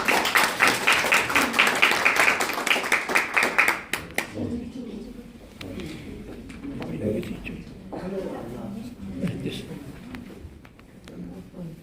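Applause and clapping from a crowd at a campaign office opening, dense and loud for about four seconds, then thinning into scattered claps under talk.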